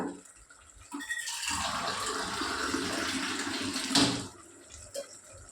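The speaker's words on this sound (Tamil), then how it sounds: "மூணு டம்மர் தண்ணி ஊற்றிக்கலாங்க" Water gushes steadily into a cooking pot for a few seconds, a broad splashing pour that starts abruptly and stops, close by with no talking.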